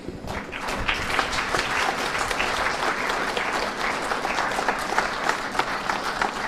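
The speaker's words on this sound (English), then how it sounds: "Big round of applause for both players." Sustained applause from a crowd at an adult 4-wall handball nationals event, dense and steady throughout, rising slightly in places.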